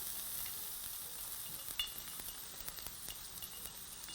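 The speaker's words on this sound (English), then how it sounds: "now next up we'll add our onions" White onions, finely chopped, frying in oil for a macaroni pasta dinner, giving a steady bright sizzle with faint clinks and stirring scrapes over it.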